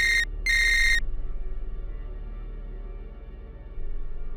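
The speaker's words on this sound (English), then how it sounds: "Until one night, his phone rang." A mobile phone rings late at night, giving two bright electronic tone bursts at the start before they cut off, leaving a low steady hum in the room.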